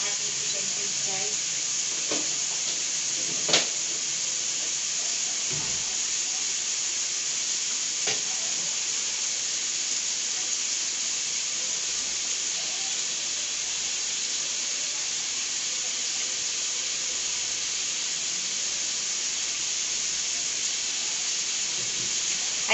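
Vegetables sautéing in a pan, cooked for selling, give a steady close sizzle and hiss throughout, with a few brief clinks of stirring and faint background talk.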